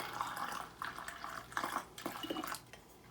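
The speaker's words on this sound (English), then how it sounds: "We're going to start by pouring water into this pint-sized jar." Water pours into a pint-sized glass canning jar in a kitchen, a faint close trickle with soft splashy bursts and small gurgles that rise and fall over a few seconds.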